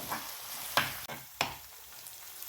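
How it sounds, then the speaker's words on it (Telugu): A ginger-garlic masala paste mixed with coriander seeds and cumin fries in oil, giving a constant close crackling sizzle broken by two sharp scraping stirs of a spoon against the pan. "బాగా వేగనివ్వాలి మసాలా"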